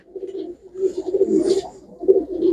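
Domestic pigeons, a gur-coloured kabootar breed kept by fanciers, coo in soft low repeated phrases close by, a few rolling calls in quick succession.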